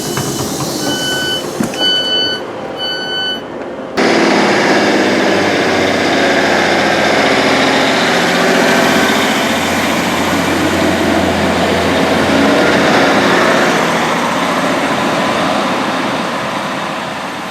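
Passenger train on the Marston Vale Line approaching Stewartby station at night, a steady loud onboard rumble of engine and wheels sustained for over ten seconds, preceded by a short series of beeping tones.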